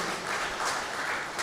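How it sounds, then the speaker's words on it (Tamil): Applause from an audience at a humour club program fills the clip as a dense, steady patter of clapping hands, continuous and fairly loud with no pauses. "கைத்தட்டல் மூலமாக நன்றியை சொல்லி,"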